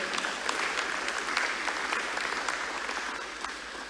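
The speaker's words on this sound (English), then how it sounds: "Give them a round of applause again." Conference audience applauding in a large hall, a steady wash of many hands clapping at moderate distance that holds evenly for a few seconds before slowly thinning out.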